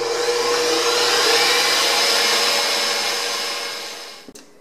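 An electric mixer runs on high, whipping egg whites in a bowl with a loud steady whir that slowly fades and then cuts off with a small clunk at the end.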